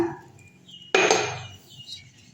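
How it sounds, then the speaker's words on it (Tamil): A single heavy vessel thuds down onto pieces of sugarcane with a sharp metallic clank and a short ringing decay, loud and close in a quiet kitchen. "ஒரு வெயிட்டான பாத்திரமாக எடுத்துக்கோங்க அதில் வந்து லைட்டாக டோர் ஈட்டி இடிச்சுக்குங்க"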